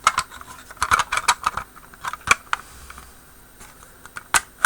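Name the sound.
plastic model kit hull parts clicking together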